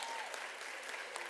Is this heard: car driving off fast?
no